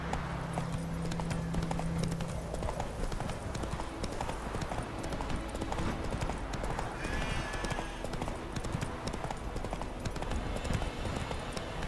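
Roach, the horse in The Witcher 3: Wild Hunt, gallops with a rapid, continuous clatter of hooves over background game music and ambience, with a faint voice speaking.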